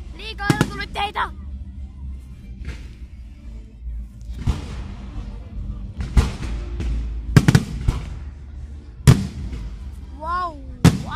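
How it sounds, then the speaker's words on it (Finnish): Loud fireworks explode in an irregular series during Tykkimäki amusement park's season-closing display, some booms close together and others spread out, with crackling tails and excited voices between blasts. "Liikaa ilotulitteita!"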